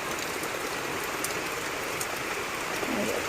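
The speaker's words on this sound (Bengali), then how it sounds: "খুব জোরে বৃষ্টি এসেছে" Heavy rain pours down steadily, a dense even hiss of drops on surfaces that holds constant throughout with no break.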